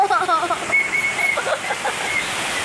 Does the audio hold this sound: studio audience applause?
no